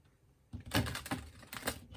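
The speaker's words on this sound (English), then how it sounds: "Some initial shuffling for this." Cards from a Find Your Happy tarot deck are shuffled close by, in a few loose, papery riffling bursts after a brief quiet start.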